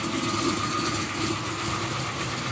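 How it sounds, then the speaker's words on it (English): An engine idling steadily around 850 to 900 rpm with a quiet, even mechanical clatter of pistons and rockers and a low hum underneath, constant throughout. "you'll hear mostly pistons and rockers here. It's pretty quiet."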